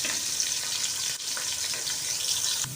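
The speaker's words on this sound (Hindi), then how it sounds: "प्याज को हम हल्का ब्राउन होने तक भून लेंगे।" Chopped onions fry in a pan until light brown, a steady, even sizzling hiss that continues throughout with only faint stirring noises and no talking.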